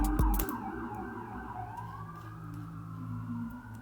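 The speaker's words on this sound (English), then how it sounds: "I have sirens." A wailing siren sound effect sweeps up and down in pitch at moderate distance, steady and continuous after a short thump at the start, with no talking.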